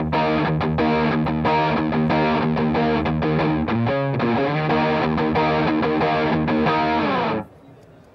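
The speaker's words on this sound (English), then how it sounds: "So you can choose the distortion sound you want." Heavily distorted electric guitar chords through an Akai distortion pedal chug in a steady rhythm with a brief sliding bend, then cut off abruptly near the end.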